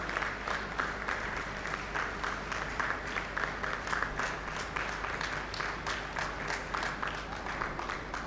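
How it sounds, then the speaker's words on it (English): Delegates at a bank officers' association golden jubilee general body meeting applauding former office bearers, a long even roar of many hands clapping in a large hall, sustained and unbroken. "Let us give a big round of applause to our former office bearers."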